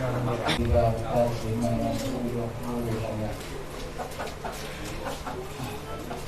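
Chickens cluck during an Iban Dayak customary wedding ceremony in a village, the bird calls sitting amid a busy crowd with overlapping talk and murmur throughout.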